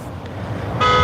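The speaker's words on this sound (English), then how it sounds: "There is the honk, the car alarm honk." A car alarm honk blares in at the end, a loud steady tone after a stretch of low background rumble.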